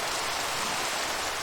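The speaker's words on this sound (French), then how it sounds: "Et en plus il pleut." Rain falling in a Minecraft game world, a dense, steady hiss of drops with no talking.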